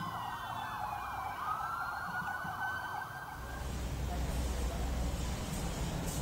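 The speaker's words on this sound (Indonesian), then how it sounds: "Lampu rotator dan suara sirine kendaraan taktis milik Densus dinyalakan seperti sedang menggelar suatu operasi." Sirens of Densus tactical vehicles, lit with rotator lamps, wail outside the gate of an attorney general's office, a steady undulating tone over crowd and street noise that gives way to rumbling traffic and wind.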